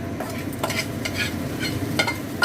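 Whole spices for a Bengali phoron tempering sizzle and crackle steadily in hot oil in a pan, with a few sharper pops and stirring scrapes, close and continuous.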